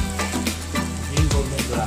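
Garlic sizzling in a pan as it fries toward golden brown for a tuna pesto pasta, a brief steady hiss with a few light stirring knocks and faint tonal background sound.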